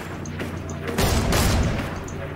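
Gunfire in a shooter video game crackles as a few sharp bursts and booms, loud and close, with a denser volley in the middle of the clip.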